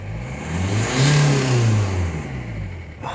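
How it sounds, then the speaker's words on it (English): Ford C-Max with a fuel-starvation no-power fault revving in steady harmonic bands, swelling to a peak around the middle and then easing off as the throttle is released, heard up close with no talk. "So that's revving until I let off on the gas."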